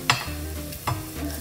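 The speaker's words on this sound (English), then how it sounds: "Stir it for a while." Green gram dhal mixture with grated coconut stirred in a pan, two quick spoon scrapes over a low, steady bubbling sizzle.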